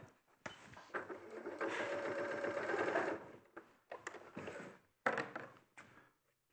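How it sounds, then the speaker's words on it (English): A sewing machine stitches closed the belly of a fabric toy, running in a steady whirring burst for about two and a half seconds, followed by shorter separate bursts and clicks close by with no talking. "so we've sewn the belly up"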